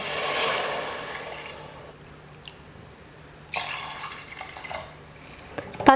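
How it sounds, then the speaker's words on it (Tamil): Water runs from a tap and splashes into a pan for tomato rice, loud at first, then softer trickles with a few brief splashes and clinks near the end. "இப்போ இதே டம்ளரில் 2 டம்ளர் அளவுக்கு தண்ணி சேர்த்துக்க போகிறேன்"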